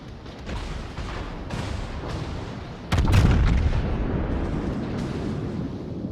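Heavy naval battleship gunfire in the World of Warships game, a scattered run of booms building to a loud broad blast at mid-clip followed by a rumbling roar and more distant shots.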